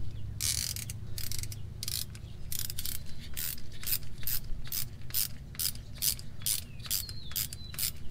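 Wrench ratcheting while loosening a brake line banjo bolt on a truck's caliper, a Sierra or Silverado rear brake setup, with repeated close clicking bursts in a steady rhythm over low background noise.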